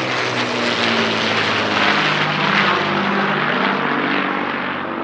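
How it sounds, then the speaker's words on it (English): The Battle of Britain Memorial Flight's three-ship display of classic UK warbirds at a British airshow: loud, sustained propeller-engine drone that swells and fades slightly as the piston aircraft pass, with no voices. "Now another display of classic UK warbirds, this time from the Battle of Britain Memorial Flight."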